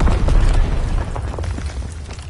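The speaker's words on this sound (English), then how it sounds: "Enemy mortar fire incoming" Mortar explosions in a PS4 war game, a deep rumbling boom that fills the start and then slowly decays into a low, rolling roar without any talk.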